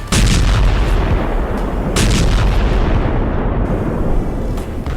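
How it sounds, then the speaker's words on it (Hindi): Loud explosions roar over Doha, Qatar on a weekday afternoon: a dense, continuous booming rumble with sharper blasts cutting through near the start, midway and at the end. "अचानक जोरदार धमाके होते हैं"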